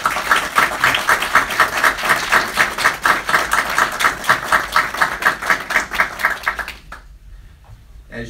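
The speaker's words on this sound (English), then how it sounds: "Join me in giving Rob a round of applause." An audience at a BBG event applauds Rob, steady dense clapping for about seven seconds before cutting off into near silence.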